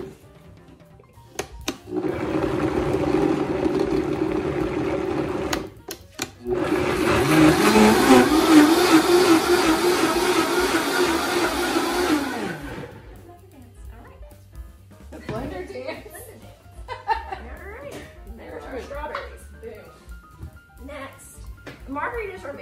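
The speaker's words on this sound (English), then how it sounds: "put them straight in my Vitamix blender. Really a great blender. It really is. And puree them." A Vitamix blender purees strawberries in a kitchen, with two loud whirring runs: a short burst followed by a longer, rising roar that cuts off sharply. A person then talks over quieter kitchen sounds.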